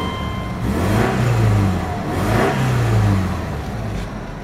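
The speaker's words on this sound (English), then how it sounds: "Rev it up for you." A 2005 Subaru Outback wagon engine is revved twice, each rev rising and falling in a smooth swell over a steady idle, close and loud.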